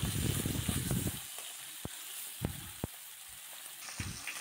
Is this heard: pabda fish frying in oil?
yes